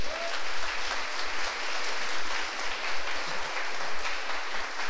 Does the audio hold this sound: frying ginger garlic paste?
no